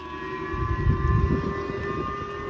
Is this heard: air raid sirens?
yes